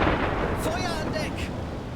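A U-boat deck gun in the naval game UBOAT fires a single sharp, booming shot that rolls off into a fading rumble, with a voice speaking over it.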